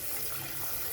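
Tap water runs steadily into a sink as food for Jamaican pepper pot soup is rinsed, a close, continuous broadband rush with no voices.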